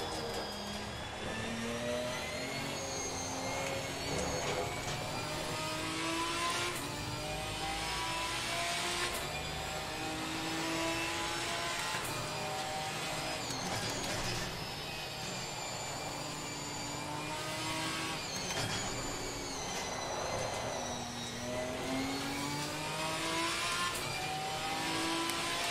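GT4 race car engines roar continuously in Assetto Corsa Competizione, with loud rising and falling revs through repeated gear shifts and several cars close together, steady and without talk.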